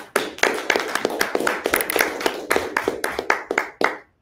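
Several people clap unevenly in an online meeting, their sharp, close claps arriving in irregular bursts over a few seconds before stopping abruptly, with no speech.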